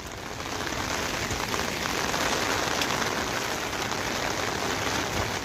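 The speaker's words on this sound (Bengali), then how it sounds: "যে বৃষ্টি পড়তেছে।" Heavy rain pours down in Bahrain, a dense, loud and unbroken hiss of drops drumming on surfaces close by for several seconds, with no voices over it.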